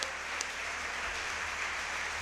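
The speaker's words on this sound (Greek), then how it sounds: "Όρθιοι οι θεατές χειροκροτούν τους πρωταθλητές." Standing spectators applaud table tennis champions after a point at an Olympiacos–Panathinaikos men's gold medal playoff match, a dense steady wash of clapping from a large crowd.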